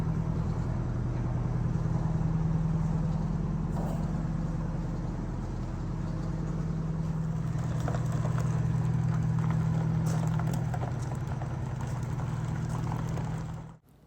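Heavy overweight bus with a freshly replaced turbo idles and creeps in reverse, a steady low diesel drone with a pulsing rumble holding nearly constant for about fourteen seconds before cutting off abruptly, no talk.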